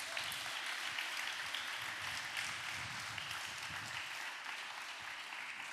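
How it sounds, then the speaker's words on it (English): An audience at a masterclass gives a casting director a steady wash of applause, dense and continuous throughout without a break. "Can we give a big applause to Margery Simkin?"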